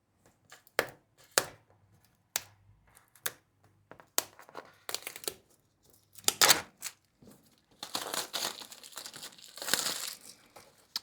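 Nylon wrap is cut and peeled off a OnePlus Watch 4 box, giving close, irregular crinkles, snips and plastic tearing noises that grow into a denser rustling burst near the end.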